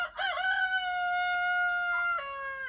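A rooster near a snow-covered chicken coop lets out one long, clear crow that rises, holds its drawn-out middle note and trails off, close and alone with no talking.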